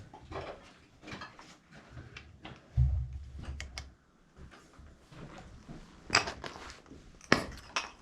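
Footsteps crunch across a delicate, glass-like cave floor of mineral formations, giving close, irregular crackles with sharp clinking snaps and a few louder brittle crunches, with no talk.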